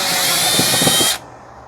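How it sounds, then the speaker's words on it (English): An impact driver removing screws from a Toyota part, a loud close whirring burst with a rapid hammering rattle in the middle that cuts off abruptly after about a second, leaving quiet. "I'm just gonna go in like a brute savage and hit it with the impact driver"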